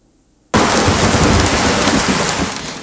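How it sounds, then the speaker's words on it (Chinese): Heavy rain pours down at night, bursting in suddenly after near silence and then holding as a loud, dense, steady roar of falling water with no voices. "倾盆大雨的夜里"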